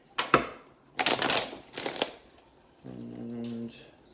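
Tarot cards shuffled by hand in three quick riffling bursts close up, followed by a short low growl-like tone.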